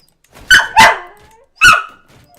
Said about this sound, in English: the dog will not stop barking until I go play with it outside